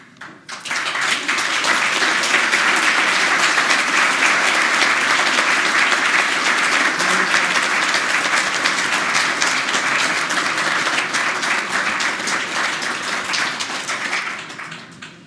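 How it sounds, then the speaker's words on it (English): Audience applauding at an award ceremony for a healthcare provider recognition award, a dense, loud, sustained round of clapping that rises quickly and holds steady for about fourteen seconds before fading, with no talk over it. "I would like to ask your applause"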